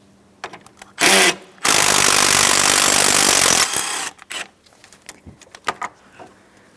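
A power tool removes a 10mm bolt holding the radiator and AC condenser together on a 2008-2016 Chrysler Town & Country: a short whirring burst, then a longer steady run, followed by scattered clicks and handling noises close by.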